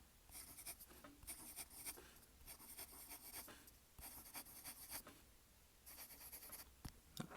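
A Sheaffer Intensity fountain pen with a stiff steel nib writes quickly on paper, making soft, close scratching strokes in short bursts separated by brief pauses. The sound is faint and there is no talking.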